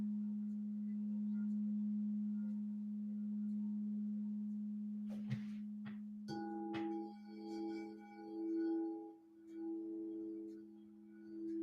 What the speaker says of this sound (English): to listen to the sound of the bowl